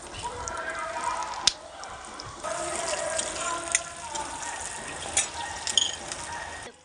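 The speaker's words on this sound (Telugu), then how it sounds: "కొంచెం పచ్చిమిరపకాయలు కట్ చేసుకొని వేసుకుంటున్నాం" Chopped green chillies fry in a pan for a brinjal and prawn curry, making a moderate, continuous sizzle with small crackles and brief louder spikes as they are moved around.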